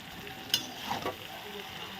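Large leg pieces of meat sauté in a spice masala, giving a soft, continuous sizzle with a couple of brief stirring scrapes, quiet and close.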